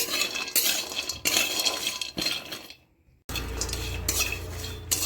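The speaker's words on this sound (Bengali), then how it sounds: "তারপরে এই বজটা ভাজা হচ্ছে" A metal spoon repeatedly scrapes and clinks against a pan while food fries, brisk clattering strokes close by, broken by a brief near-silent pause before a louder steady sizzle and stirring resume.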